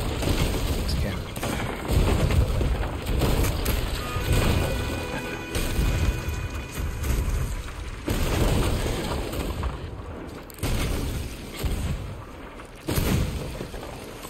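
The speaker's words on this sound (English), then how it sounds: "It's a cannon." Ship cannons boom in repeated heavy volleys during a player-versus-player naval fight in Sea of Thieves, loud crashing blasts every second or two with dense clatter between them.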